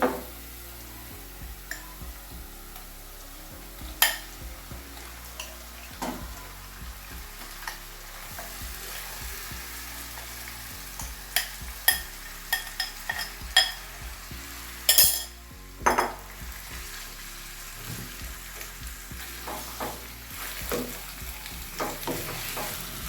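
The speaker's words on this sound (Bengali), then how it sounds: "এবার আমি ম্যারিনেট করা চিকেনগুলো দিয়ে দেবো এর মধ্যে।" Marinated chicken for banjara chicken curry frying in a pan: a soft, steady sizzle broken by scattered clinks and scrapes of a utensil against the pan, loudest midway, with no talk.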